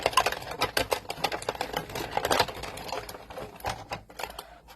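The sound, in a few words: die cut machine cutting stencil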